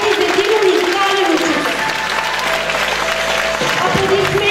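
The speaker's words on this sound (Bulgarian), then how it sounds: "Моля ви аплодисменти за Дима Николаев" Applause from the audience at a Bulgarian high school's graduation send-off ceremony for the class of 2024, steady dense clapping filling the hall for several seconds with a voice heard over it.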